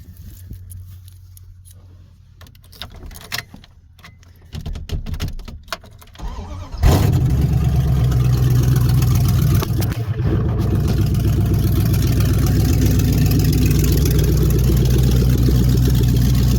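A 1994 Dodge Dakota with a 5.2 V8, 4WD and an unfinished exhaust of bare manifolds with a Flowmaster cranks over after a few quiet clicks and fumbles, then catches and settles into a loud, steady idle.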